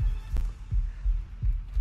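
A heartbeat sound effect in the survival video game Atlas thumps steadily in a low, loud double-beat pulse, repeating about every three quarters of a second with a faint hum beneath and no voices.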